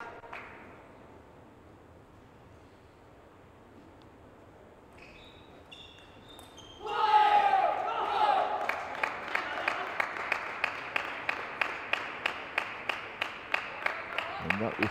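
Crowd at a table tennis junior championship final, with applause and cheering swelling suddenly midway, then settling into rhythmic, evenly spaced clapping.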